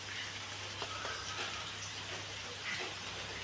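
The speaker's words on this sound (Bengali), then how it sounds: "আর বৃষ্টিটা এখন একটু থেমেছে, কিন্তু বৃষ্টি আবার আসছে বৃষ্টি।" Rain falling at a house in the Andaman Islands, a steady soft hiss of drops with faint patters, even and continuous at moderate distance.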